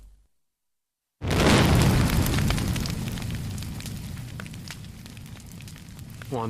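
Special-effects explosion filmed for the TV series Melrose Place: after a brief silence, a sudden loud boom erupts and rolls into a long, roaring fiery rumble with crackling that slowly fades, with no speech.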